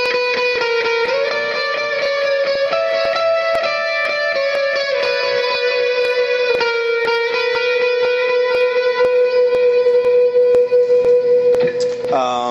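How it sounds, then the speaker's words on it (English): An electric guitar played through a pedalboard with the overdrive fully up rings out in sustained, distorted notes and bends, with loud, saturated tone carrying steadily throughout and a quick final flourish. "Here's that same setting with the full drive on."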